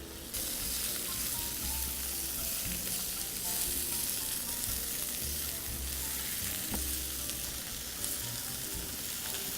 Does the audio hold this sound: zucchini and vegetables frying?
yes